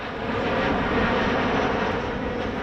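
An airplane flies overhead near SDF airport in Louisville, a steady, loud broadband engine roar holding level throughout with no speech.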